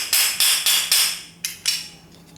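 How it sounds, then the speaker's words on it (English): A transmission hammer with a half handle taps a seized screw on a VW carburetor: four sharp metallic knocks in quick succession, a pause, then two more, close and clear with no talking. "Takes a hammer. I'm going to use the tranny hammer, half a handle. You want to tap this screw,"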